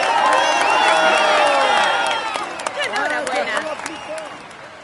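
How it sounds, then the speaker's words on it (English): A crowd in a Tour de France 2017 cycling video game on PS4 applauds and cheers loudly, clapping and whoops swelling at first and then thinning into scattered claps and shouts. "let's applaud him once more"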